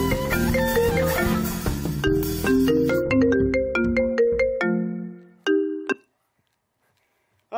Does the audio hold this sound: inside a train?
no